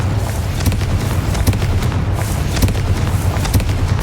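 Confringo explosion spells go off repeatedly in Hogwarts Legacy, a steady run of loud booming blasts and thuds layered over continuous rumbling combat noise.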